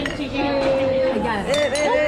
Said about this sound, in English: Oh, sorry, I nearly broke your glass.